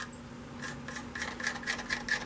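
A homemade spinning sander works the surface of a 12-inch maple vase on a lathe, making a quiet, repeated raspy rubbing that comes in regular strokes over a faint steady hum.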